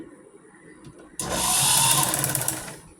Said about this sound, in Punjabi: ਹੁਣ ਆਪਾਂ ਇੱਥੋਂ ਸਲਾਈ ਲਗਾਉਣੀ ਸ਼ੁਰੂ ਕਰਨੀ ਹੈ ਜੀ